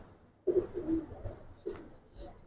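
A Giribaz khaki pigeon coos twice close by, a soft low throaty call followed by a shorter one, over quiet room noise.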